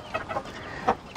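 A wild, skittish hen in a backyard coop, a few short clucks in quick succession, fairly close and clear, no talk.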